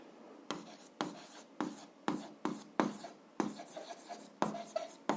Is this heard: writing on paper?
yes